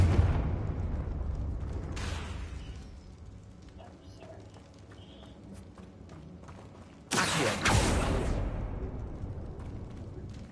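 A Confringo fire spell from Hogwarts Legacy bursts with a sudden loud blast partway through, following an earlier softer whoosh, amid game ambience and footsteps.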